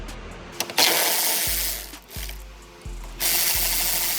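A hand ratchet removes 10 mm headlight bolts on a 2017-or-later Ford Raptor, a few short clicking pulls spread between pauses, with a close, quiet mechanical rasp.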